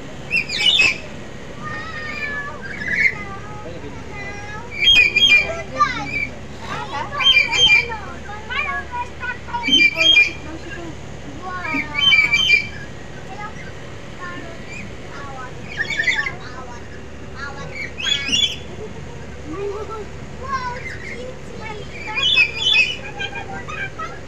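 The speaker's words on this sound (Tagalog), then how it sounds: "Dito yung lugar ng mga ibon guys oh" Birds squawk and chirp in scattered bursts throughout, some close and harsh, with people talking faintly underneath.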